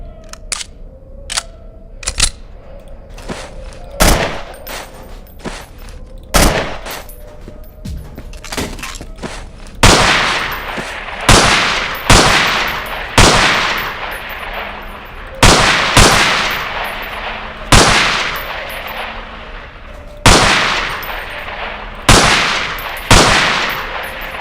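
Glock pistol shots at a shooting range in the game Underhell, about twenty sharp, loud reports in irregular pairs and runs, with echoing tails, alone without talk.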